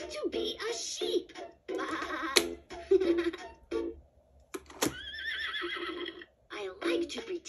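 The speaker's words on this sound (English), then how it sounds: "I like to pretend to be a horse!" A Fisher-Price activity table toy plays a loud whinnying horse neigh amid bright recorded voice phrases and toy chimes, the neigh rising and falling in a clear electronic burst.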